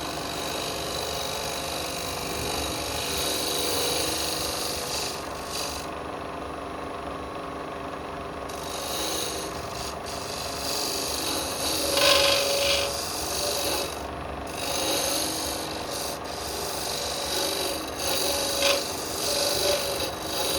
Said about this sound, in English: I'm going to come in with a curved scraper.